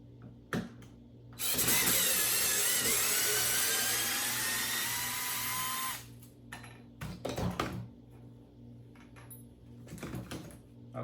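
Ryobi USB lithium and Milwaukee M12 Fuel screwdrivers back screws out of wood. One sustained high whirring run lasts a few seconds, followed by scattered clicks and short motor bursts, all fairly quiet.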